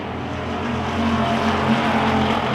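A 1966 Ford Fairlane pure stock race car roars around a dirt track, a loud, sustained engine drone with a steady pitch throughout.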